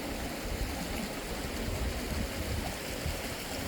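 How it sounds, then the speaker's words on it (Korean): A mountain stream swollen with snowmelt near an old rural house flows strongly, a dense, continuous rushing roar that stays close and even throughout, with no voices. "힘차게 개울물이 이렇게 내려가고 있습니다"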